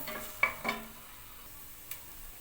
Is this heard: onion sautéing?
yes